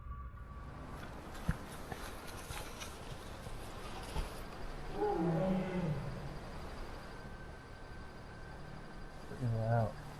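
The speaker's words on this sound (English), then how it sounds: "That's tigers calling to each other." Two tigers calling to each other at midnight near a camp, deep moaning roars rising around five seconds and again near the end, distant and moderately loud over a steady night-time background with a brief knock.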